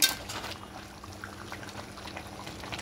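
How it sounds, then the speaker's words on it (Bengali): Chicken pieces bubble and sizzle in their own released juices in an uncovered pan while being sautéed for chicken malai curry, a steady, fairly quiet hiss with no talking. "এই অবস্থায় একটু মাংসটাকে কষিয়ে নেব"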